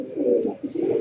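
Domestic racing pigeon at a pigeon club cooing close by after landing: a soft, low, continuous throaty coo lasting about a second, with a brief dip in the middle, alone with no talk.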